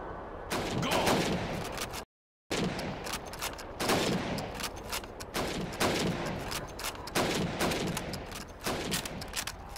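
Rapid rifle shots at helmet targets on a Call of Duty 2 training range, cracking loudly in quick bursts with a brief silent gap early on, then continuing in a steady rhythm.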